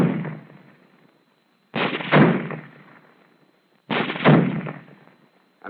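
Rifle shots fired through a four-inch concrete wall: two loud, sharp reports about two seconds apart, each followed by a long fading echo, with a third shot just starting at the end.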